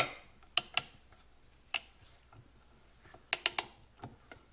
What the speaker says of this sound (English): I always use the torque wrench on, flywheel, pinion shaft, sprocket shaft, bolts.